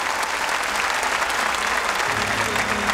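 A concert crowd at a tribute show breaks into loud, dense applause that carries on without pause, with a low hum of instruments or voices entering underneath near the end.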